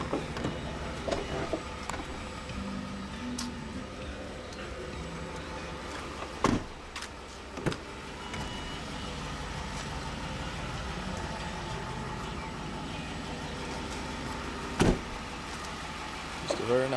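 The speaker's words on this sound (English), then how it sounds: "Power hatch shuts." The power rear hatch of a white 2007 Lincoln Navigator Ultimate 4x4 closes with a low motor hum and a few sharp latching thumps, heard close over a quiet idling background.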